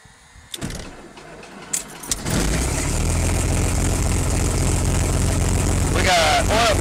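Franklin 220 engine of a Stinson 108 aircraft cranking a few times and then catching, settling into a loud, steady, rumbling idle up close, with a voice calling out briefly near the end.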